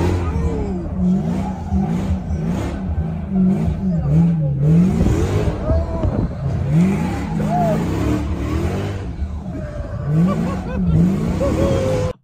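Cars drifting with engines revving in rising and falling sweeps, tires squealing, while people talk over the loud engine noise.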